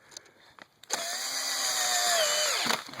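A power drill drives a drywall screw into a greenhouse frame, giving one sustained, close whir that winds down slightly as the screw seats, after a few short taps.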